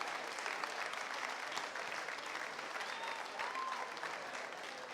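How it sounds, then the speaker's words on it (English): Spectators at a county swimming championship applaud the athletes, a steady, dense patter of many hands clapping throughout, somewhat distant and roomy, with no talk over it. "So let's just give them a round of applause."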